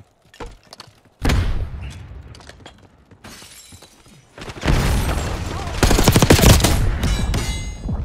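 Gunfire in the Black Ops 6 multiplayer beta: bursts of rapid automatic shots and loud cracks, with sharper bursts early and a heavy sustained barrage later, mixed with game voices.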